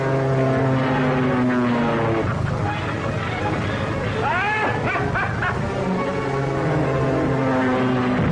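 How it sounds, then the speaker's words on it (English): A propeller plane drones steadily overhead in a 1939 film serial scene, the engine roar loud and continuous, with a dog yipping briefly in the middle and voices heard over it. "Zorka plane 8 miles off Devil's Point, heading for the Navy anchorage."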